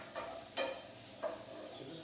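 Green beans sautéing in a heated wok on low heat, a soft steady sizzle with a few brief scraping stirs at regular intervals, close and fairly quiet.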